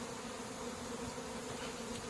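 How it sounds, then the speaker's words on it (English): Honey bees swarm around an opened hive in a steady, low buzzing hum, even and continuous, soft and close, with no voices. "So it brushes bees out of the way."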